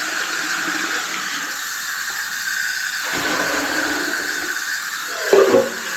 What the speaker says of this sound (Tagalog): nag-iipon lang ako ng tubig.